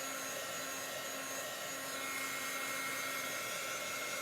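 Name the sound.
heat dryer drying chalk paste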